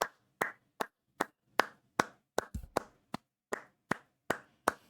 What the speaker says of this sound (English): give him real claps